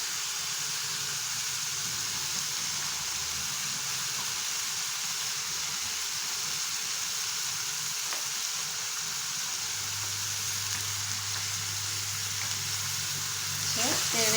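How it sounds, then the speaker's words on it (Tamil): Coriander powder frying in oil with softened tomato and onion for a garlic gravy, a steady close sizzle and hiss running throughout with faint stirring, a low hum entering midway and a brief clatter at the end. "எண்ணெயிலே கொஞ்சம் நல்லா அப்படியே பெரட்டி விட்டுறணும்"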